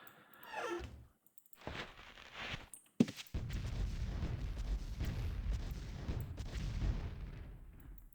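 Ship cannons firing in Ultima Online, a sharp blast followed by a sustained roaring rumble of cannon fire and explosions after a quieter opening, loud and continuous toward the end.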